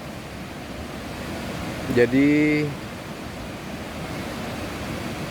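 A river flows beside rice paddies at Cihonje in Sumedang, a steady broad rushing wash that runs throughout, briefly overlapped by a single spoken word.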